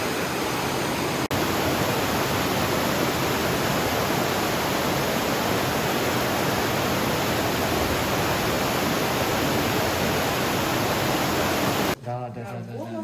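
Underground river rushing through a cave in Crimea's Red Cave (Kizil-Koba), a loud, steady broadband roar of flowing water that holds nearly unbroken before cutting off sharply near the end.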